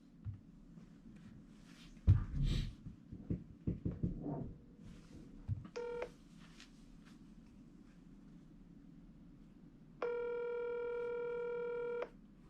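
Touch-tone keys are dialed on a phone placing an outgoing call, then a steady ringback tone sounds, a short burst first, later a long unbroken tone, faint background between.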